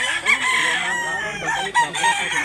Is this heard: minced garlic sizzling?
no